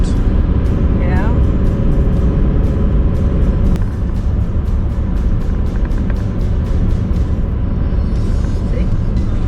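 A car drives a mountain road through clouds between Colorado and Utah, a loud, constant interior road roar and rumble with rapid ticking clicks overhead, while people talk in the cabin.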